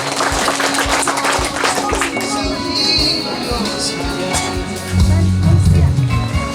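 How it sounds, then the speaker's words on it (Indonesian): Applause at an evening engagement ceremony, a steady mid-loud patter of clapping running through the whole clip with voices and murmur mixed in, a louder burst toward the end. "mari kita beri tepuk tangan ya"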